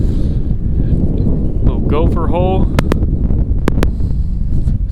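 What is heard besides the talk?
strong wind blowing over microphone outdoors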